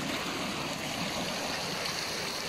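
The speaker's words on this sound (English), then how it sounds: "it's just a river coming down" A clear river rushes steadily down near a spring in wild winter countryside, a dense continuous wash of flowing water heard close and alone.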